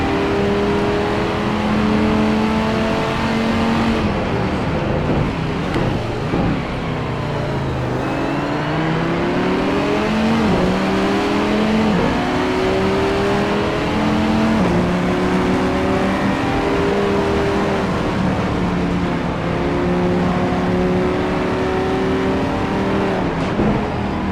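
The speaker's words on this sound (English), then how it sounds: "On board with Andrew Werner on the SRT Viper." Onboard engine of an SRT Viper race car during a race in China, a loud continuous roar rising and falling through the gears with repeated upshifts and downshifts, steady throughout.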